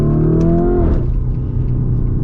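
A 2022 Lamborghini Urus with a turbocharged V8 revs loudly up, then the rising harmonic whine cuts off into a rough, rumbling idle, heard close with no talk over it.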